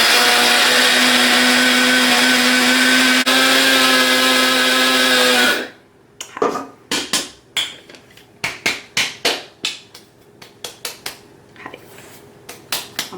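A coffee grinder whirs loudly for several seconds, grinding spices for homemade chaat masala, then cuts off and is followed by a run of sharp knocks and taps on the grinder.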